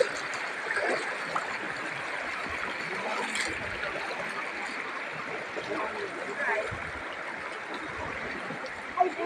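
A river rushes and gurgles steadily as people wade across it, the dense broadband water noise holding throughout with faint splashes and voices mixed in.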